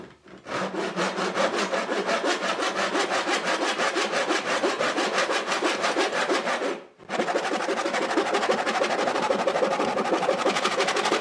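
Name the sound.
hand-sawing wider wood pieces in adjustable miter box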